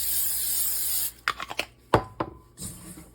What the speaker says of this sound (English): now you want to spray your bowl